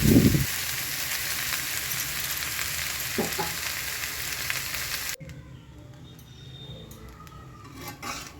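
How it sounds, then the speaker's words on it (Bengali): Cooked rice fried and stirred in a large kadai big enough to feed fifty, a steady close sizzle broken by occasional scraping stirs for about five seconds, then a quieter stretch with faint kitchen sounds. "এরপর আমি ঝরঝরে ভাত একদম অল্প অল্প পরিমাণে দেবো আর দিয়ে নাড়বো"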